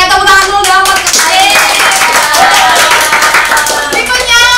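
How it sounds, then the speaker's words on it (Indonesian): Loud clapping from an audience greeting an intern at a casual chat session, dense and continuous, with bright children's or young voices chattering and calling out over the applause throughout. "tepuk tangan dulu dong buat Kak Kais"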